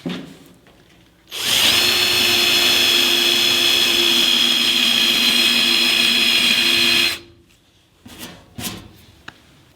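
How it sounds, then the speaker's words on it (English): A stripe-off eraser wheel on a power drill removing a vinyl sticker from a car, whining loudly and steadily for about six seconds after a quiet start, then stopping, followed by a few faint clicks and knocks. "Stripe off wheel is perfect for that."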